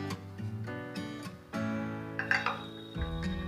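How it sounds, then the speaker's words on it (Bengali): A metal lid comes off a pot of boiling eggplant for a Bengali hilsa fish curry, with one bright clink and rattle partway through over a steady tonal background. "এবার আমি ঢাকাটা তুলে দেখে নেব বেগুনগুলো সেদ্ধ হয়ে গেছে।"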